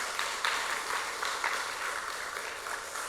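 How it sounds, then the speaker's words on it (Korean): A church congregation applauds together during a revival service, a steady wash of many hands clapping at moderate distance, sustained and even throughout with no voices on top. "우리 박수 한번 먼저 하겠습니다"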